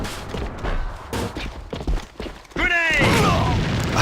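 Grenade blast and gunfire in the shooter game Alliance of Valiant Arms during an esports match, loud bursts and thumps with a sharp ringing tone near the end, under a commentator's voice.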